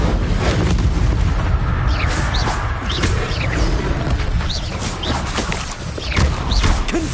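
Incendio fire spell blasts in Hogwarts Legacy, loud repeated whooshing bursts and crackling impacts over a steady roaring combat din, with no talking.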